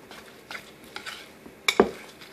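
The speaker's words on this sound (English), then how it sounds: "So I'm just going to mix it up, just whisk it up just a little bit, just to get everything mixed together." A horseradish, lemon and mascarpone mixture whisked in a bowl, with soft scraping strokes building to a couple of sharper clinks of the utensil against the bowl near the end.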